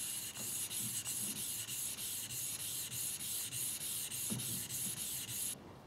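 A bushcraft knife blade is stroked along a fine-grit whetstone, steady rhythmic rasping passes repeating about twice per second, close and quiet with no talk.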